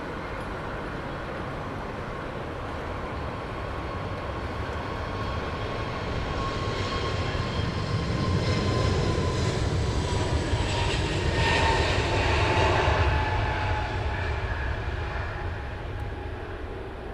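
An Aer Lingus airliner takes off at Heathrow Airport, its broad jet engine roar building steadily from moderate to loud and peaking near the end, with no voices over it.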